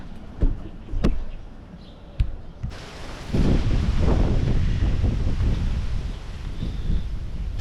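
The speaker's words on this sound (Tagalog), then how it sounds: "Lakas ng hangin mga kafeño kaya natutumba na yung ating mga pananim." Strong wind roars and buffets the microphone in a steady rush over a farm with papaya plants, preceded by a few sharp knocks and rustles.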